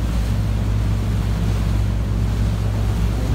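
A Mainship cruiser powered by a Caterpillar 3126 diesel cruises across the open Gulf, its steady low engine drone blending with constant wind and water rush against the hull, loud and unbroken with no talking.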